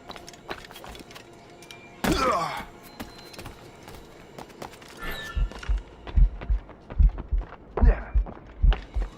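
A heartbeat effect in Assassin's Creed Rogue after the character is poisoned, with a run of regular low thumps growing louder and steadier toward the end, alongside footsteps and other game sounds.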